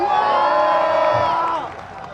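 A concert crowd at the Nexon Champions Cup final celebration show cheers and shouts, loud massed voices swelling then easing off near the end.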